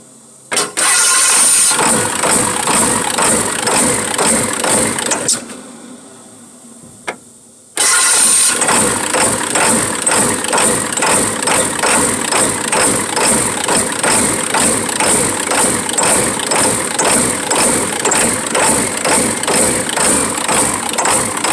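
A 1996 Ford F-350 7.3L Powerstroke diesel cranks and catches, runs loud and rough with a rapid uneven clatter, cuts out briefly, then restarts and keeps idling roughly and close without speech.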